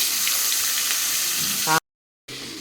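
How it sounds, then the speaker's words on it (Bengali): Hilsa fish frying in hot oil gives a steady, close crackling sizzle that runs for nearly two seconds before cutting abruptly to silence, then resumes briefly. "একটু ইলিশ মাছ এখন ভাজা করব"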